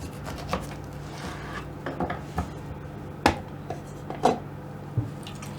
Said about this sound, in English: I'm now going to cut my orange in half